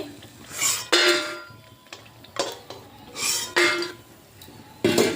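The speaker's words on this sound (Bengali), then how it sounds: "বড়িগুলো ভাজা হয়ে গেছে এবার বড়িগুলো তুলে নিচ্ছি" Fried lentil dumplings (bori) are lifted out of a pan of oil, with a series of metal spatula scrapes and clinks against the pan coming in separate bursts, close and clear, with no talking.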